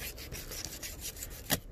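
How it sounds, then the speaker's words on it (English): A knife drawn repeatedly across a knife sharpener while filleting shark: quick, rhythmic scraping strokes, about eight in under two seconds, close and fairly even, with one sharper stroke near the end. "I'm gonna get the knife sharpener."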